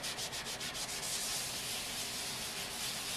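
A worn red Scotch-Brite pad scrubs steadily across a truck bed being prepped for priming, giving a close, continuous abrasive rasp with quick back-and-forth strokes at the start, with no voices.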